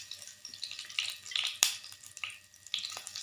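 Whole spices, bay leaves, cardamom, cloves and cinnamon, fry in hot oil with a light, uneven sizzle and a few crackling bursts, one sharp pop standing out, up close without speech.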